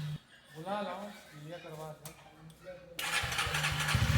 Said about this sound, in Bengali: বাইকের এই স্টার্ট দেওয়ার আওয়াজটা শুনে মনটা খুশি হয়ে ওঠে